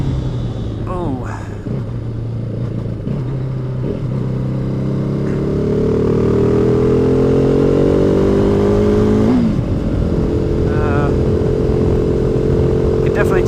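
A 2015 KTM RC390 sport motorcycle with a small engine revs and accelerates on a test ride, its rising engine note loud and close against steady wind rush.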